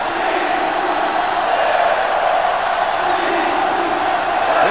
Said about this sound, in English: Sellout crowd is really making a difference now as these guys can't even call the play.